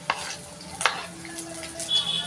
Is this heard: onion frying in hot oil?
yes